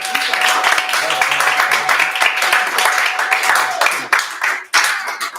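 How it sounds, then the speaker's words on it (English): An audience at the end of a question-and-answer session breaks into dense, steady clapping that carries loudly for about four seconds and then thins out, with voices mixed in. "round of applause for"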